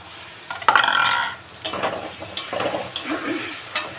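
Chicken fries in a pan as turmeric and a soaked paste of ground coriander and dried red chilli are added and stirred. A loud splash and hiss rises at first, then gives way to scattered sizzling and scraping.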